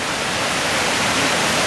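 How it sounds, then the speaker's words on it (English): Steady, dense hiss of rain pouring down on a hiking trail near Panther Creek Falls, loud and close, with no pauses. "it's actually raining a little harder now"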